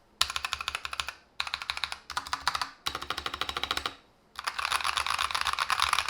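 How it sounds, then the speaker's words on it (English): Mechanical keyboard fitted with thick PBT keycaps, typed on in fast close bursts of crisp clacky keystrokes, several runs separated by short pauses, with no talking. "because it's PBT and it's thicker PBT, this will actually change the sound of your keyboard"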